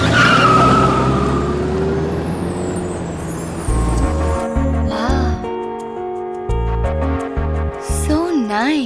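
A car speeds off in a Tamil comedy film scene with a loud, rushing tire skid over the first few seconds, then voices and music take over.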